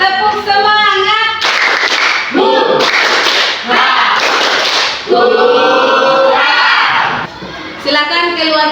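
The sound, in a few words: classroom students doing a rhythmic spirit clap again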